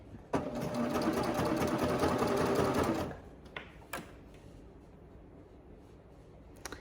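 A serger stitches a seam through three layers of fabric, running fast and steady at close range for about three seconds, then stops, leaving quieter handling noises and faint clicks.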